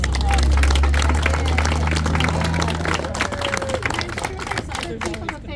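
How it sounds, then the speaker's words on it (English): Audience applause at a community collage unveiling in New Ulm, a dense run of clapping with a low hum underneath that thins out toward the end, crowd noise and some talk mixed in. "So let's give a round of applause to Brock."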